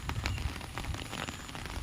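Rain falls steadily, a continuous close hiss with scattered crackling drops and no voices.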